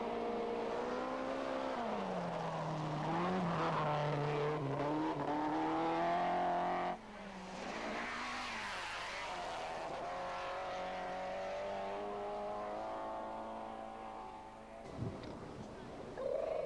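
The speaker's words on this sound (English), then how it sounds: "The spectacular Meekings was extracting every second out of the Corolla and ran 11th" Toyota Corolla Group A 1600cc rally car driven hard on a New Zealand rally stage, engine howling through rising and falling revs with gear changes, loud and continuous with a brief lift near the end.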